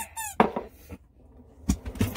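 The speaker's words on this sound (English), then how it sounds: "That sure is fun, squeaky toy!" A dog's squeaky toy gives a high, sharp squeak near the start, followed by a few soft thumps and rustles of play close by.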